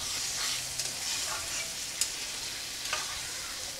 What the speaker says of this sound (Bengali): তারপর কিছুক্ষণ নাড়তে হচ্ছে।